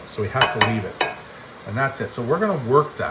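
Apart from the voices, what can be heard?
ground beef sizzling and frying in a pan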